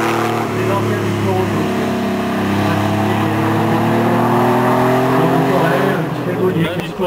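A vintage race car climbs past at the historic Cacharat hill climb, its engine droning steadily with rising pitch as it nears, then fading, heard under continuous commentary.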